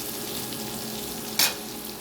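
Onion greens, cauliflower, egg and potato with dried chilli powder and salt being sautéed in a pan, a soft, even sizzle with one brief, sharp scrape of a spatula midway, heard close.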